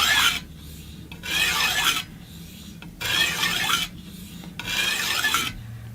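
Knife blade sharpened on the stones of a TSPROF Kadet Nero guided sharpener: four long, even, loud rasping strokes roughly a second apart, close and alone, with quiet gaps between passes.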